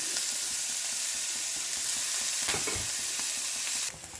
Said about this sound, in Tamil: எண்ணெய் காய்ஞ்ச உடனே நாம் அரிஞ்சு வச்ச வெங்காயம், பச்சை மிளகாய் போடுறோம்.